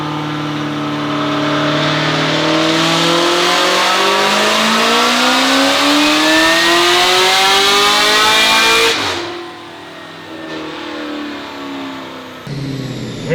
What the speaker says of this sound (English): blip the throttle close for a split second up high